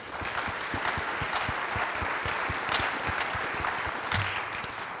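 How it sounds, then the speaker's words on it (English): A room of attendees at a workforce talent summit panel applauds Jennifer, with steady crowd clapping throughout and distinct individual claps standing out near the front. "give me another round of applause for Jennifer"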